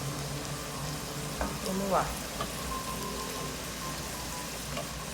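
Squid sautés in a small pan for Brazilian black rice, giving a faint, steady sizzle and crackle with a brief spoken phrase over it.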